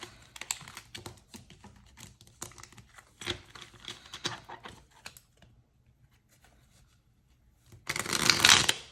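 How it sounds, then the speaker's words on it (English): Tarot cards riffle and clatter in a loose, uneven shuffle, followed by a short pause and then a louder burst of cards being bridged together. "I'm shuffling so poorly right now."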